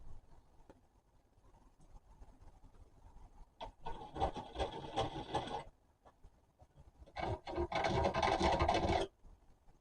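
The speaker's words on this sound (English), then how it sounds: "I'll just get something to scratch a hole in that with" Scratching at a dark metal windmill part with a pointed tool to mark drilling points, heard as two bursts of close, rough rasping, each lasting a couple of seconds, with quieter handling between them.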